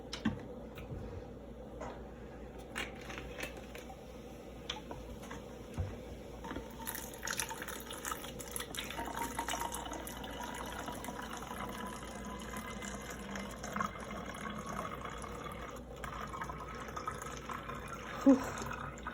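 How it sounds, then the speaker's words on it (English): Vinegar pours into a bottle as a soft, steady trickle of liquid that runs throughout at low volume, with faint clinks and handling noise. "we're gonna fill the bottle 1/3 of the way with vinegar"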